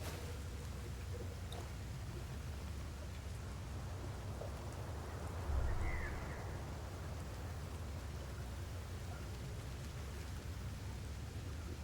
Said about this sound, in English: And it's raining blood again.